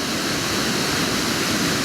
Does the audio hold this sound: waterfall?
yes